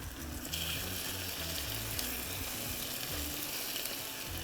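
Chicken pieces fry in a pan, giving a continuous moderate sizzle with bubbling spatter and a faint low hum underneath, no talking.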